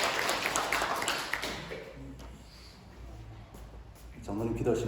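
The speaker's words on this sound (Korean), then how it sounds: "우리 보라신 주님을 우리 박수로 영광하겠습니다" A church congregation claps during a Sunday worship service in Jinhae, South Korea. Dense, fairly loud applause fills the first second or so, then thins out and gives way to a voice speaking.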